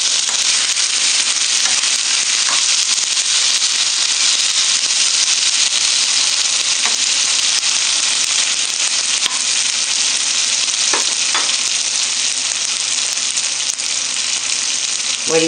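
Flour browns in a pot for beef stew with a loud, constant frying sizzle and hiss that carries through unchanged, marked only by a few faint clicks.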